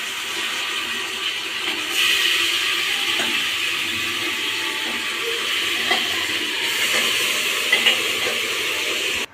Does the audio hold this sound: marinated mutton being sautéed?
yes